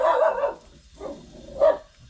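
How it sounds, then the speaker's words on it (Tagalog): Dog barks three times near a hut being taken apart, setting off after a frog rustled nearby: a loud bark, a softer one, then a sharp closer one, with brief pauses between. "Nakatahol ka agad."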